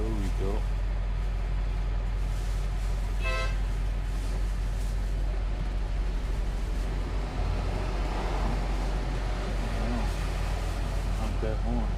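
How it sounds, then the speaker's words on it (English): A vehicle horn gives a brief toot amid constant traffic and engine rumble near Chelsea Piers, with voices in the mix. "Honk that horn."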